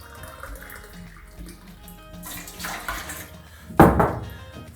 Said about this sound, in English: So our first step will be like putting 2 cups of warm water